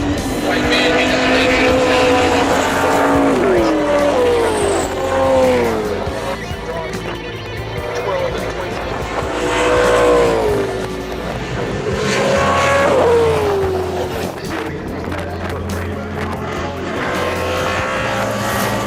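V8 Supercars race past at the Bathurst 1000 in 2013, engines swelling loudly then fading in repeated Doppler sweeps as the top three pass in close succession, with a steady roar and crowd or commentary noise beneath.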